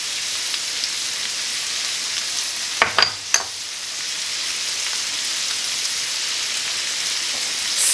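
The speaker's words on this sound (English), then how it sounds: "we're just going to let that saute for about 3 to 5 minutes" Apple cranberry sausage stuffing sautés in a pan with a steady, close sizzle, broken near the middle by a few sharp scrapes and clacks of a utensil stirring.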